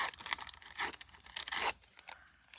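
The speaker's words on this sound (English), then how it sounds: "Maybe I can tear the side here too." Thin paper torn by hand for a shabby chic booklet, a few short close ripping bursts with pauses between, the longest tear near the middle, quiet otherwise.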